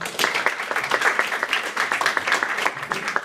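Steady applause from a sizable audience at a university criminal-law conference, dense and sustained, with no talking on top.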